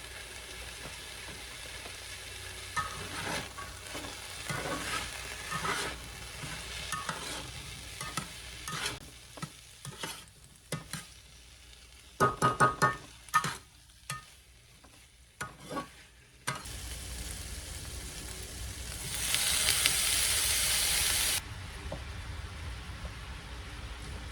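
Onion frying in a pan, a steady close sizzle with bursts of stirring and scraping, rising to a louder, brighter hiss near the end.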